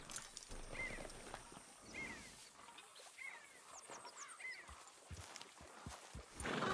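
Horse hooves clopping and a horse neighing in Red Dead Redemption 2, a scattered run of soft hoof steps and whinnies at moderate distance, fairly quiet overall with little talk.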